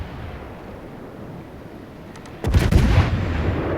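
Naval guns of the German cruiser Yorck firing in the World of Warships video game: a quiet rumbling lull, then a few sharp cracks followed by a heavy booming salvo that lingers to the end.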